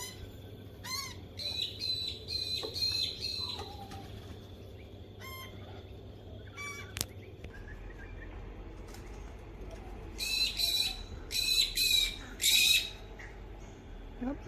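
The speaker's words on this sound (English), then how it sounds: "Oh, here come the crows." Crows calling outdoors, harsh repeated squawks in short bursts near the start and louder close caws clustered toward the end, with quieter bird sounds and a low steady background hum between.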